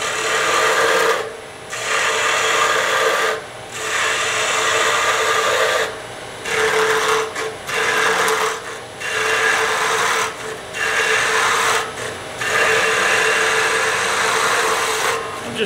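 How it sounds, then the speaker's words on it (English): Woodturning gouge taking repeated planing cuts on a spinning wooden workpiece, a steady close rasping and hissing broken by several short pauses between passes, with no talk. "I'm just doing a standard planing cut."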